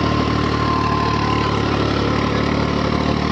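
A 50 HP tractor engine runs and refuses to shut off, holding a loud, steady, throbbing drone close by with no pause and no talk over it.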